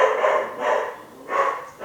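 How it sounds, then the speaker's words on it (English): Dogs bark three times in quick succession, moderately close and clear, with short pauses between the barks and no voices. "dogs barking"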